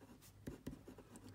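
Pen scratching across paper while handwriting an accounting worksheet, a few quick close strokes and taps against faint room noise.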